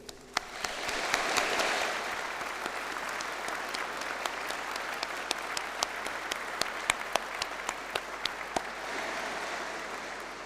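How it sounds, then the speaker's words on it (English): Sustained applause from a crowd at a graduation ceremony, a steady wash of clapping that swells early and continues with scattered sharp individual claps throughout. "giving them the round of applause that they deserve"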